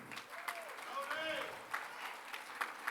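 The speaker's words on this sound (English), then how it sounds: "One round of applause." Faint clapping from the audience at a charity show saluting Tony Rad rises with a few scattered, sharper claps while voices talk over it.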